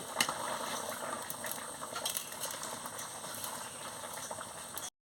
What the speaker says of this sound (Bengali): এবারে টকবক করে ফুটে গেছে